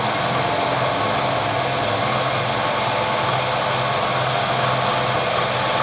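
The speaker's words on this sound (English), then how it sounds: "I've got the cutter running at 1500 RPM." Carbide milling cutter turning at 1500 RPM takes a 40 thou cut into an aluminium block on a milling machine, giving a steady, loud broadband whine and grind that runs unbroken throughout.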